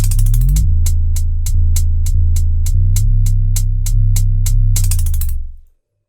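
A programmed beat merges deep, sustained 808 bass notes with crisp closed hi-hat ticks in a steady repeating pattern, loud and upfront with no voices, ending in a short fade.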